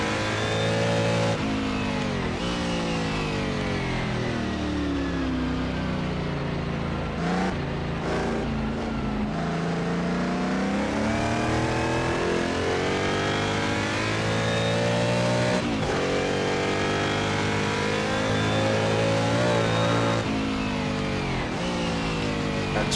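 Historic sportscars, among them a GT Ferrari, race in the Assetto Corsa video game at Riverside, with engines revving and howling continuously as they accelerate and lift through gears, loud and sustained throughout.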